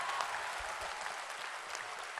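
Audience applause at a Hindi poetry recital: dense, steady clapping from a large crowd, heard at a moderate distance and sustained without break, with no voices over it.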